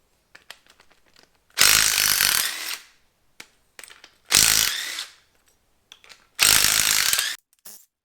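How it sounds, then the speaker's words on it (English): A ratchet loosening cylinder head bolts on a Chevy 350 engine clicks loudly in three long bursts, with scattered taps and clanks in the pauses between; no talk. "let's see if we can get our head bolts loose now"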